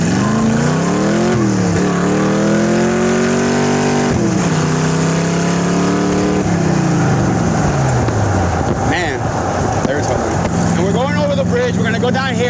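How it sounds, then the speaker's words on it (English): A 1929 Ford Roadster with a 5-speed gearbox accelerates hard, its engine revving up through several gear changes in rising and dropping sweeps, loud and close, with a voice talking over it. "We're gonna give you a little bit of an acceleration run."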